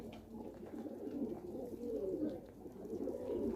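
Caged pet pigeons or doves coo in low, soft, repeated phrases, close by and alone, over a steady background hum.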